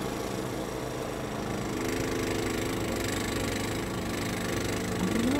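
A snow clearing machine runs steadily nearby in a snowy Swiss setting, its mid-pitched engine droning and rumbling with a constant vibrating tone throughout, with no speech.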